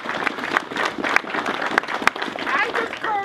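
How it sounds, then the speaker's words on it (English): Crowd applause at a river opening celebration with a pipe band present, a steady round of clapping throughout, with cheering voices rising near the end. "I think they deserve a round of applause."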